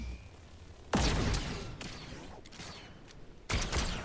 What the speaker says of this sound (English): I still have the Wookiee bowcaster, I believe, so we can just like charge it and then shoot into the bush.